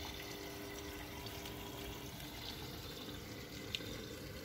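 A washing machine running a rinse cycle, heard as a steady wash of rushing, running water that continues unbroken throughout, with a single faint click near the end.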